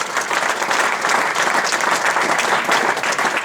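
Audience at a French cyclo-cross championship press conference breaks into applause, a dense, loud burst of many hands clapping that carries steadily from start to finish.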